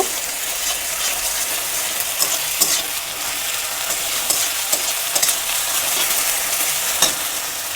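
Onion and garlic fry in a pan for a cabbage dish with fish head, giving a steady, dense sizzle with scattered stirring scrapes and clicks throughout, close and fairly loud, with no voices.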